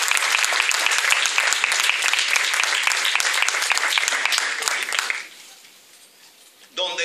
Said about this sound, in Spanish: Y eso se merece un fuerte aplauso